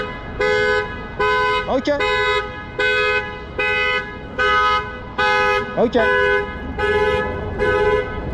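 Car alarm honking in repeated loud horn blasts, about one per second, each with a steady, buzzy tone and brief gaps between them. A short spoken word comes between the blasts.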